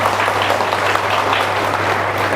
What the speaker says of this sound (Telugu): చప్పట్లు కొట్టండి ఒకసారిగా.